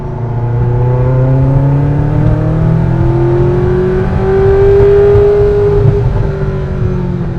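A loud, close Ferrari F40 LM engine accelerates in a powerful drone, pitch climbing steadily through the gears with a turbo whine layered over the roar.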